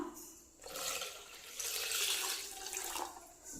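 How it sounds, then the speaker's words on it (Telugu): Water is poured in two steady rushing bursts with a short break between, splashing close by at moderate volume. "ఇప్పుడు నీళ్ళు పోసుకుందాం"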